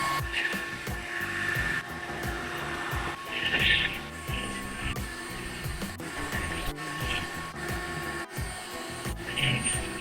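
A Dreame H14 Dual cordless wet vacuum cleaner runs steadily with a droning whir and faint clatter, continuous at close range, its hiss rising and falling as it moves across the floor.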